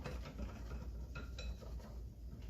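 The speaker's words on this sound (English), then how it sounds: "What we're doing here is we're just whipping a little air into this." Eggs being whisked for hollandaise sauce in a bowl, a quiet, fast rhythmic clinking and scraping of the whisk against the bowl, fairly soft and close with no speech.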